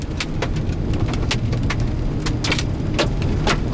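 Hail and rain pelt a vehicle during a Kansas tornado storm chase, a dense, steady drumming with sharper individual hits scattered throughout, close and loud, with no one talking.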